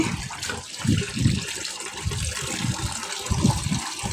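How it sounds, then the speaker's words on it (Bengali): Water runs from a tap as meat is washed for a picnic cooking session, an uneven splashing and gurgling close by with short bursts as the pieces are handled. "তো মাংসটা আমি ভালো করে পরিষ্কার করে ধুয়ে নিচ্ছি"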